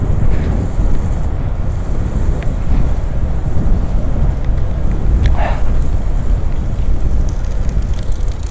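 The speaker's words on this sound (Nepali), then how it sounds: "हेर चिसो हावा आइरहेछ है" Cold wind blows steadily across the lakeside in Pokhara after rain, a loud continuous rumble of air buffeting the microphone throughout, with no talking.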